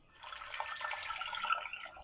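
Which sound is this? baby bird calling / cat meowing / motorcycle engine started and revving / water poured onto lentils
water poured onto lentils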